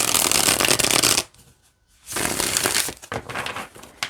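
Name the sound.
bridge shuffle of playing cards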